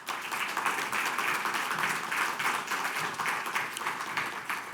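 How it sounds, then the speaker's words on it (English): Conference audience at the 2026 USHCC Legislative Summit giving a warm round of applause to welcome the moderator: a thick, continuous burst of many hands clapping, moderately loud and steady for several seconds, with no talking over it. "Please join me in a warm round of applause"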